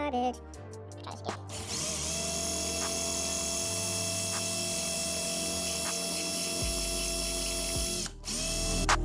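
A power drill fitted with a worn 1/4 inch bit grinds steadily into a 2020 Road Glide saddlebag, the motor pitch shifting as pressure changes, with brief starts and stops at the beginning and end.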